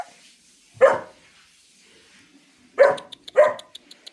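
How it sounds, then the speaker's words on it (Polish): A dog barks three times, loud and nearby: one single bark, a pause of two seconds, then two quick barks close together, with faint background noise between. "Jak ty tak szczekasz na niego."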